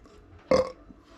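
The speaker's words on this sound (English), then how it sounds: "One little burp." A single short, close burp after drinking a coffee cake ale beer, one throaty belch rising out of near silence and fading quickly.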